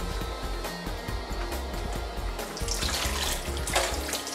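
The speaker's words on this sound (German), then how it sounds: "ausspülen nochmal über den Wasserhahn" A syringe is rinsed under a running tap with lukewarm water. A steady, close hiss of flowing water fills the sink throughout, with faint handling knocks beneath.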